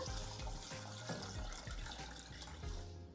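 Water pours steadily into a cooking pot holding lentils and chopped vegetables, a continuous close splashing gush throughout with no speech.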